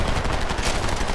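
Rapid gunfire in the Homefront video game, a dense, continuous burst of shots that stays loud and even from start to finish with no pauses, as in automatic weapon fire during a firefight.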